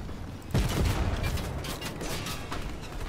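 Gunfire in the video game Fortnite, a burst of rapid shots starting sharply after a quiet lead-in and rattling on at moderate volume with a few louder cracks.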